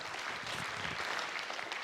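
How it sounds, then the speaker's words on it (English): Audience at a social good summit in Australia gives a short burst of applause, dense and fairly faint, steady throughout with no talk over it. "I was just waiting for the applause for the video"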